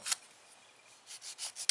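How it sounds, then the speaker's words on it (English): A nail file rasps over an acrylic nail to flatten its edge, a brief stroke followed by a pause and then several quick, short rubbing passes, close and fairly quiet. "just filing back behind there, flattening out the edge of the acrylic"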